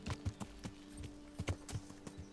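Horse hooves clip-clopping at a walk in the medieval game Kingdom Come: Deliverance, a steady uneven rhythm of soft thuds close by, with a low ambient hum underneath.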